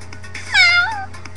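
A child imitates a cat with a single drawn-out meow, rising and then falling, close and clear against a quiet background.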